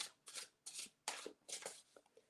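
A new tarot deck being shuffled by hand, a series of crisp riffling bursts in an irregular rhythm, close and fairly quiet with no talking.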